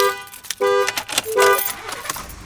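A locked pickup truck sounds its horn in loud short honks, two sustained blasts with brief gaps, alongside some jangling and handling noise close by.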